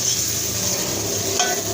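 Chana dal tadka with turmeric gets stirred in a hot pan, a continuous close sizzle with soft scraping as the spoon moves through the spices.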